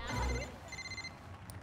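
An old-style telephone bell rings in two short bursts close by, with a low thump at the start and faint room sound between rings.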